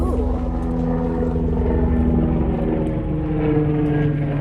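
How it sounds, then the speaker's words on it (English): Loud, steady droning rumble of an ambulance helicopter passing overhead, its rotor hum constant throughout with no talking. "So that was the helicopter ambulance"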